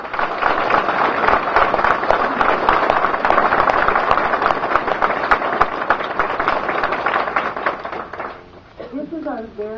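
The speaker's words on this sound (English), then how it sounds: "Please join me in a big round of applause." Audience applause for GED graduates at a Western Dakota Tech graduation ceremony, a steady dense wash of clapping that fills the room for several seconds before fading, with a voice starting to speak at the end.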